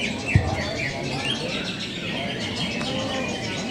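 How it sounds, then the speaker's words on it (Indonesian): Songbirds chirp and trill at an Indonesian bird-singing contest. Many overlapping calls ring out over a busy outdoor crowd murmur, with a brief thump near the start. "ini persiapan lomba burung di Barata Enterprise nih Sri"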